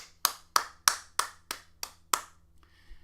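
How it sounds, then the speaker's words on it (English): Seven close, crisp hand claps ring out alone at an even, deliberate pace during a live stream, followed by a faint brief sound. "Alright, everybody clap at the incel."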